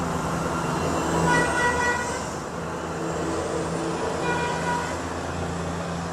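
Busy road traffic with car horns honking repeatedly: long sustained horn toots ring over a dense, loud rumble of engines and passing vehicles, with no break.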